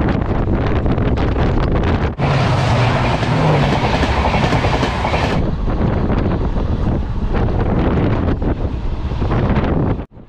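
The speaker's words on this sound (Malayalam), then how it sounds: "മഹാരാഷ്ട്രയുടെ സമതല പ്രദേശങ്ങളിലൂടെയാണ് ട്രെയിൻ ഇപ്പോൾ സഞ്ചരിച്ചുകൊണ്ടിരിക്കുന്നത്" A Konkan Railway train travels across the plains of Maharashtra with a loud, continuous rumble and rhythmic clickety-clack, heavily buffeted by wind noise, with a sharp shift in tone partway through.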